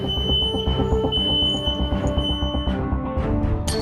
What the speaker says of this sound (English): these pressure switches will trigger an alarm